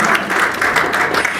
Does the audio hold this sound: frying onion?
no